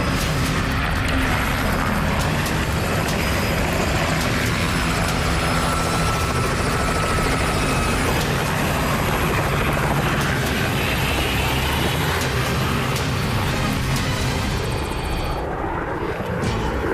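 A helicopter roars steadily and loudly throughout, the rotor thudding and engine whine filling the air without pause.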